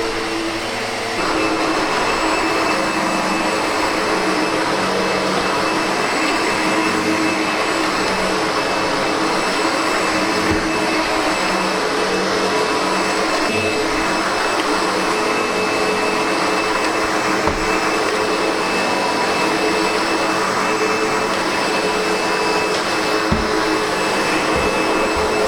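SEBO Automatic X7 Boost ePower upright vacuum cleaner running continuously during a whole-house clean, a steady, loud whirring motor drone with a high whine, occasional faint bumps as it moves, no voices.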